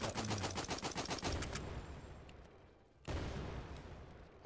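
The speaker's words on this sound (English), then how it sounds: "Fire off all your remaining rounds or press the right app button now." Rapid automatic gunfire in Overwatch VR rattles off in a fast, even burst as the remaining ammo is emptied, then fades to a brief lull before a second loud burst of fire, with no talking.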